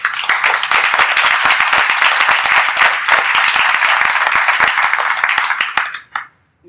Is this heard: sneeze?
no